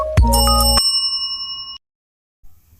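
A notification bell ding sound effect strikes loud and clear as a bright ringing chime over a short low thump, then rings on and fades out within about a second and a half.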